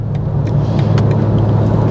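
A BMW M4 G82 with a Stage 1 tune cruising at 130 km/h, its engine a loud, steady low rumble blended with road and wind roar, continuous throughout with no speech.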